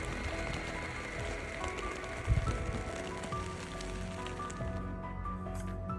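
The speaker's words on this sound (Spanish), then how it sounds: "ha llovido muchísimo, la verdad" Heavy rain falls steadily at Orellana, a soft, dense patter spread evenly throughout, faint and continuous with a brief louder splash partway.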